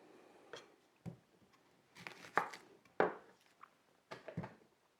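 A large onion is chopped on a cutting board with a knife, about half a dozen sharp, separate knocks against the board, close and fairly quiet, with short gaps of near silence between them.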